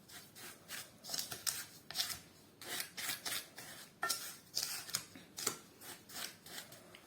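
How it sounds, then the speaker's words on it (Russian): Spoon stirring breadcrumbs into a pie filling for a Tatar balan belesh, a rhythmic series of scraping, rasping strokes against the bowl, close and moderately quiet, with no talk. "Хорошенько размешаем."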